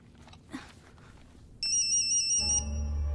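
A phone starts ringing inside a bag with a muffled electronic ringtone that cuts in sharply and holds steady after a quiet moment, joined by a low hum near the end.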